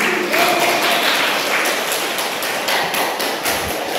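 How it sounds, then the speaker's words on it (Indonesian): A classroom of students claps for a group presentation, a dense patter of many hands that goes on steadily the whole time at moderate loudness. "Oke, tepuk tangan dulu ya"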